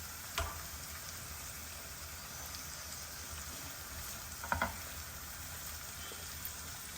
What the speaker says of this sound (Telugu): ఈ క్యారెట్స్ అవి కొద్దిగా నూనెలో మగ్గాలి